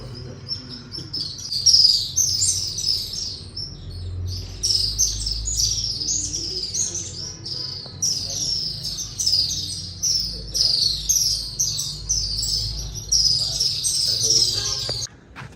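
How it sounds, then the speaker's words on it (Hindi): Swallows chirping busily at a hilltop Hindu temple complex, a dense, continuous flock of high twittering calls filling the air, fairly close, with low rumbling background noise underneath. "अबाबील है ये, और अबाबील यहाँ पर मुझे दिखाई नहीं दे रही, आवाज़ें बहुत ज़्यादा आ रही हैं इनकी।"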